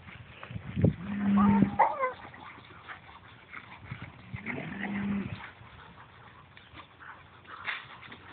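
Cattle lowing in rural countryside, two drawn-out moos about three seconds apart, fairly close, with dogs nearby and faint outdoor background.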